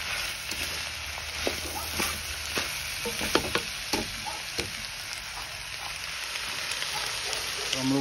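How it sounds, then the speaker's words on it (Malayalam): A kiwi pickle mixture sautés in a pan with a steady crackling sizzle and intermittent taps and scrapes of a stirring spoon, close and fairly loud. "ഇപ്പോൾ നമുക്ക് ശരിക്കും വഴറ്റിയെടുക്കണം."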